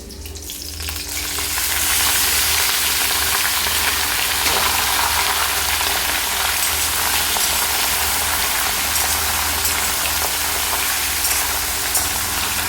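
Chopped bottle gourd drops into a hot pan of white cumin, green chilli, bay leaf and tomato and breaks into a loud, continuous sizzle that swells within the first two seconds and then holds steady.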